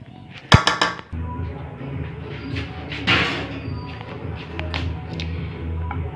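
Metal spoon clinks and scrapes against a cooking pot and dish while kofta biryani is served out, a sharp clatter at the start followed by softer intermittent clinks and scraping over steady background noise.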